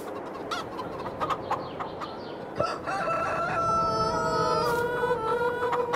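Chickens in large coops in Farming Simulator 22 cluck and a rooster crows clearly partway through, close and moderately loud over a busy farmyard background.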